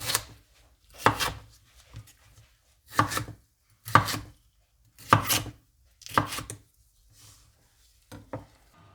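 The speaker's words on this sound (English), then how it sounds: "we will slice the paprika into strips" A knife slicing paprika into strips on a board, about eight distinct sharp cuts spaced roughly a second apart, close and clear against near silence.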